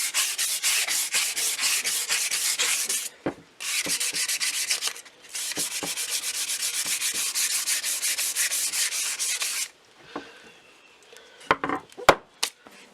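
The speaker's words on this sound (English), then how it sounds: "with the handle sanding down the way you want it, it's nice and smooth" A wooden handle of a new Husqvarna carpenter's axe is sanded in long, steady rubbing strokes, loud and close, with two brief pauses, then the sanding stops and a few light knocks and handling sounds follow.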